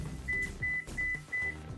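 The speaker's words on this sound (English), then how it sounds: "Oh my god, ignore that, that was my phone." A mobile phone text message alert plays four evenly spaced electronic beeps in quick succession, fairly faint over low game background sound.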